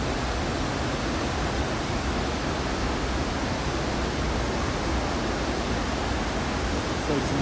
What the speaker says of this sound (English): That is quite a waterfall.